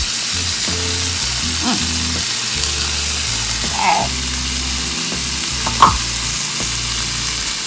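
Sausage and mushrooms sizzle steadily in a pan for low-carb stuffed bell peppers, a close continuous frying hiss punctuated by a few stirring scrapes and clinks.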